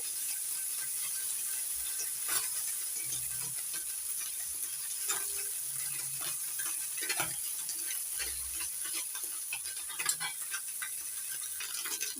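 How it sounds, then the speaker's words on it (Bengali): Morola fish frying lightly in oil for a tamarind sour curry, a steady soft sizzle with scattered small crackles and pops, close and even throughout with no talking. "টকের মাছ বেশি ভাজতে নেই হালকা করে ভেজে নেবো দুই ছোলার মাছ দিয়ে ভাজবো"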